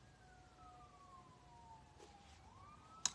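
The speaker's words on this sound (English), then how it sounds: "You hear those sirens?" A faint police siren wails in the distance, rising and falling over low city rumble, with a brief sharp click at the end.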